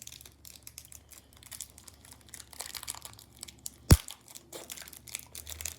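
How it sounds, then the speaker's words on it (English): Thick plastic packaging from a board game unboxing being crumpled and handled by hand, with irregular crinkles and rustles throughout and one sharp, louder crackle partway through, fairly close with no talking. "Definitely a thick plastic. It doesn't break too easily."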